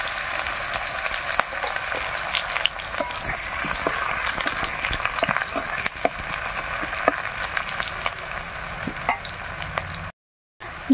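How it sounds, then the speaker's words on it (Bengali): Sliced onion frying in oil after potatoes, a steady close crackling sizzle with faint stirring ticks throughout, cutting to a brief silence near the end. "এবার তেলের ওপরে দিয়ে দিলাম পেঁয়াজ।"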